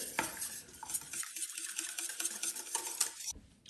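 Peanut butter sauce thinned with water and coconut milk for a chicken satay is stirred with a utensil in a bowl or pan, soft repeated scraping and clinking strokes, close and quiet, with no voices.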